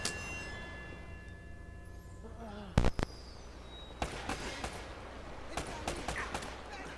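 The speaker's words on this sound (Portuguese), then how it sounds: "Nossa senhora, que tiro" Gunfire in the Uncharted video game: a sharp, loud burst of close shots cracks out, followed by several lighter, scattered impacts and pops against a quieter game background.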